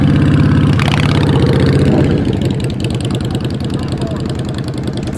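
A motorcycle engine idles close and loud at a concours d'elegance show, holding a steady, throbbing rumble throughout, with a brief rise near the start, and voices talk over it.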